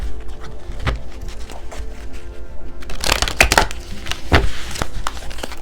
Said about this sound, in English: I'm going to shuffle these on camera.